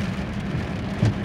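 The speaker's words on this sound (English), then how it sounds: "It's raining today" Rain falls on a car, a dense steady patter close and loud, with a brief heavier thump near the end.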